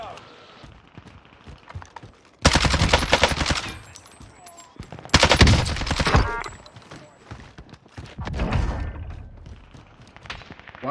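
Heavy automatic gunfire from Call of Duty Warzone on Rebirth Island, a few loud sustained bursts with thumps between them, sounding close and mixed with light speech.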